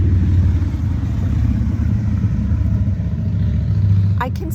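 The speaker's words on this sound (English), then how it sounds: "Let this motorcycle pass." A motorcycle passes on a road, its engine a steady low rumble that stays close and loud throughout, briefly swelling near the end.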